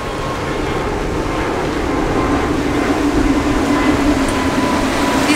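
A jet aircraft passes low over the beach at Playa d'en Bossa in Ibiza, giving a loud, continuous roar that holds steady throughout with no speech.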